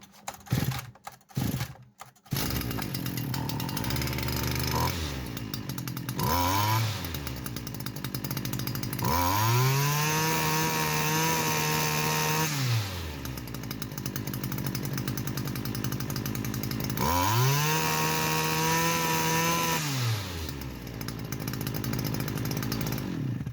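STIHL FS250 petrol brushcutter engine running close by, its revs surging up and sagging back as the throttle is pressed, bogging with an uneven, labouring note, with a few sharp knocks at the start.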